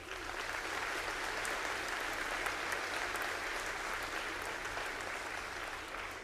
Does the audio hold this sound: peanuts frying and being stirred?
no